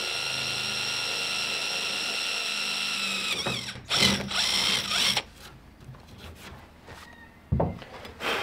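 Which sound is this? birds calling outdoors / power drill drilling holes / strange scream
power drill drilling holes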